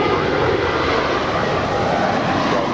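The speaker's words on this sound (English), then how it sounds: "And that is Spirit 631 off to Atlanta. It's an 8-year-old A320." An 8-year-old Spirit Airlines Airbus A320 heads out of LAX for Atlanta, its engines a loud, continuous roar at close range, with talk running underneath.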